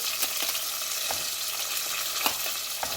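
Carrots going into a pan of frying onions as a sambar-style dal soup with vegetables is cooked. A steady close sizzle runs throughout, broken by a few short stirring scrapes and knocks, with no voices.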